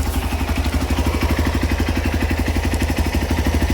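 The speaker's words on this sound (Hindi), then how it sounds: "तो अब मोटरसाइकिल रनिंग पे है।" A motorcycle engine idles steadily with a close, rapid, even putter throughout, no voices over it.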